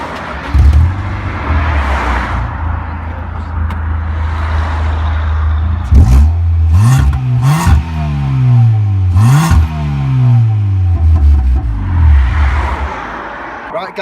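A Ford Fiesta ST with a twin exhaust fitted as its first modification on an otherwise standard car starts up, settling into a steady idle before a few sharp revs and then dropping back to a low, burbling tickover. Heard close and fairly loud.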